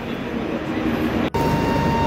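The Hisar Duronto Express pulls out of Mumbai Central station, a steady low rumble of rolling wheels and carriage noise with a faint whining tone, briefly dipping for an instant midway.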